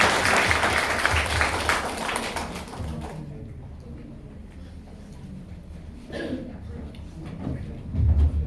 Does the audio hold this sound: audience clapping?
yes